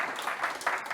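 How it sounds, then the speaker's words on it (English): Brief burst of audience applause after a presentation, a dense patter of clapping lasting under a second. "Round of applause to Mighty Fly."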